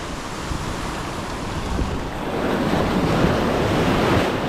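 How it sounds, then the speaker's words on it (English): Ocean waves break on a beach in a continuous roar of surf with steady wind noise, building slightly louder toward the end, with no voices. "These waves are a little bit big"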